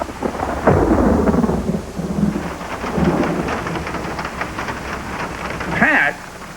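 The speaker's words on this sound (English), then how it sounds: "look at the way the wind is blowing the rain" A thunderstorm with wind-blown rain: dense rain hissing and pattering on surfaces, with thunder rumbling through and gusts sweeping the downpour, loud and continuous.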